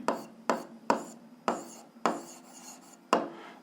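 Chalk or pen strokes writing out equations for a 7th-grade algebra exercise, six sharp scratching taps at an uneven rhythm, each followed by a short rasping stroke, close and clear with no talking.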